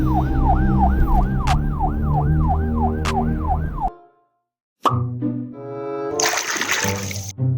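Toy police car siren wailing in a rapid rising-and-falling pattern, loud and close, then cutting out briefly before other bright electronic toy tones and clatter follow.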